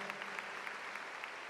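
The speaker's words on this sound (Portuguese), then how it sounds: "Quero também pedir uma salva de palmas para Ana Lúcia" A congregation at a Mass in São Paulo claps for the singer Ana Lúcia, the applause soft and fairly distant, with scattered individual claps standing out in a steady patter.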